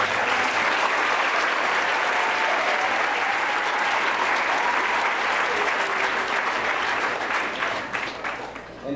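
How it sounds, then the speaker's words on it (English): Sustained, dense applause from a graduation audience after student speeches, loud and steady throughout before easing slightly near the end, with faint crowd voices mixed in. "Can we give those student speeches one more round of applause?"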